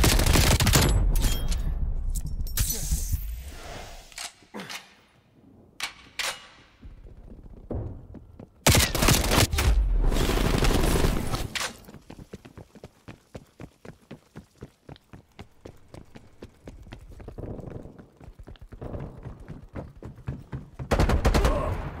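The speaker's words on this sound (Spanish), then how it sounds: "Ataque de artillería acercándose" Heavy artillery strike in Call of Duty: Cold War: dense volleys of loud, close explosions and gunfire at the start, a short lull, then another violent burst followed by a steady crackle of rapid fire.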